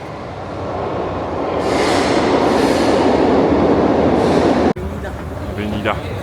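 Metro train in Portugal, a loud, close rumbling roar that builds and holds, then cuts off sharply partway through, leaving quieter station ambience with faint voices.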